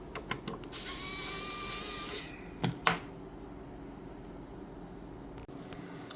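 A power driver removes screws from a Tesla Hardware 3 computer, giving a steady whirring buzz for about two seconds, then two short bursts close by before quiet.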